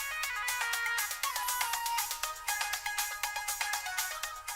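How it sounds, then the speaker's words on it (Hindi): A bright electronic doorbell chime rings through a quick repeating melodic pattern of plinking tones, loud and close and without pause. "बेल बज रही है, देखो जाके कौन आया है"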